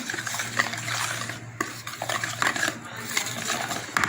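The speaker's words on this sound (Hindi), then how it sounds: "इसमें ये मैं बेसन ऐड करूँगी, इसे अच्छी तरह मिक्स कर लेंगे।" A spoon stirs gram flour (besan) into a yogurt mixture for kadhi in a bowl, making repeated scraping and clinking strokes close up. Someone talks intermittently over the stirring.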